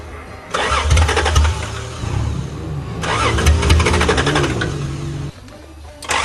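A 1982 Toyota Cressida engine cranks and catches, the starter churning into a rough, loud idle that surges, drops briefly, then cranks again, with a faint voice in the background.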